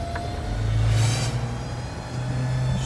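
A car engine held at full throttle, a steady loud mid-pitched roar and rumble with slight swells in revs, running continuously throughout without talk.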